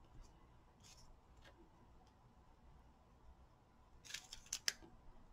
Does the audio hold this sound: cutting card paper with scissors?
yes